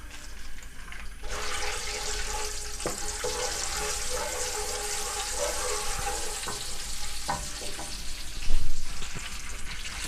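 Oil heating and sizzling in a pan for a one-kilogram chicken green karahi, a steady broadband hiss running throughout, with a few soft stir clicks and a brief louder crackle near the end.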